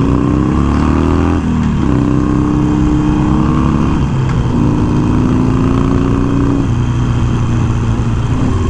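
A Harley-Davidson Iron 1200 motorcycle fitted with Vance and Hines slip-on exhausts idles loud and close, a steady deep rumble with rising and falling revs, no voices.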